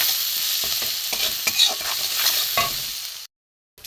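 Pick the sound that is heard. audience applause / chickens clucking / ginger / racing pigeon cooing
ginger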